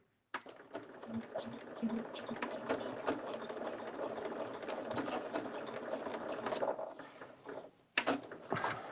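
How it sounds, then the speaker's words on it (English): A sewing machine back stitching fabric pieced from scraps, its rapid mechanical whirring and clatter running steadily and close, briefly pausing before starting again near the end. "because I didn't back stitch at this side, I'm going to do it now."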